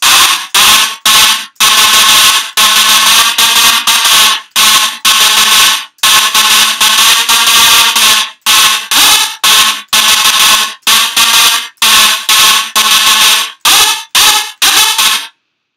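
Loud, harsh synthesizer lead notes made in Native Instruments Massive for hard-drop house blare in choppy staccato bursts separated by short silences, in an uneven rhythm.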